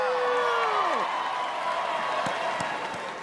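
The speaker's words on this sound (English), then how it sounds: "They're probably going to cheer even louder." A live audience cheers and applauds with steady, dense clapping and crowd noise, while a voice talks over the start and the din gradually tapers off.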